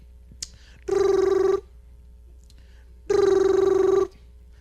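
A telephone ringing for a call home to Mom, two long electronic rings separated by a silent gap, loud and clear with no voices.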